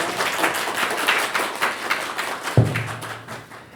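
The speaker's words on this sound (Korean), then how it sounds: "다시 한번 박수 부탁드리겠습니다" A brief burst of audience clapping after a lecture, fairly close and uneven, with a single louder thump near the end.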